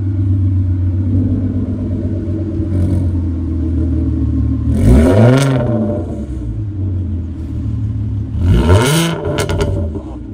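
A car with a straight-through 60 mm exhaust, only a catalytic converter and its exhaust valve open, idles with a loud, deep rumble. The engine is sharply revved twice, each rev climbing to a harsh roar before dropping back.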